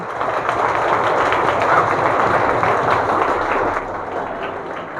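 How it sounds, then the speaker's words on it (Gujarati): A crowd applauding to welcome a visiting family at a charitable institution: a dense, continuous wash of clapping, loud and sustained, then easing slightly near the end. "આપણે સૌ તેમનું તાળીઓથી સ્વાગત કરશું"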